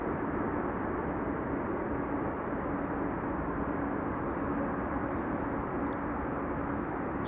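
A KLM SkyTeam Boeing 737-900 taxis at Amsterdam Schiphol. It gives a steady, distant broadband jet whine and rumble that holds even throughout without a clear peak.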